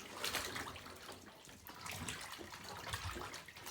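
A hunting pack being pushed and turned in a tub of soaking water, a continuous close sloshing and swishing with gurgling bubbles, moderately quiet, with no talking.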